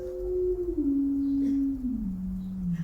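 A small electronic tone generator sounds a pure sustained tone that glides downward in pitch in steps, clear and alone.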